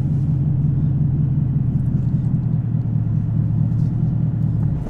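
A manual Chevrolet Camaro ZL1 pulls away as the clutch is released, giving a steady, deep engine drone and low rumble from inside the car with no voices.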